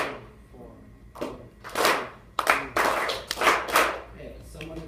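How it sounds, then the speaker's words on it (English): A class of students claps along to a counted rhythm during a music lesson, bursts of clapping arriving in uneven groups with some hands landing off the beat, while a teacher's voice talks between them. "someone is still clapping on the downbeat"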